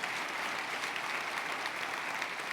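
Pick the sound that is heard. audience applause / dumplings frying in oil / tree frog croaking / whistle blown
audience applause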